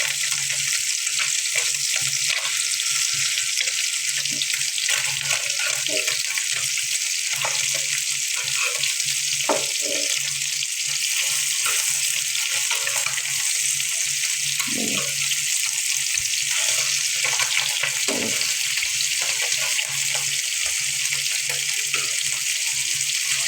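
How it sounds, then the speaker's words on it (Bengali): Fish frying lightly in oil in a home kitchen gives a steady, close sizzle and crackle with small pops, continuing evenly throughout with no talking. "মাছ বেশি ভাজলে কিন্তু ভালো লাগে না, শক্ত হয়ে যায়, তাই হালকা ভাজা দেবো।"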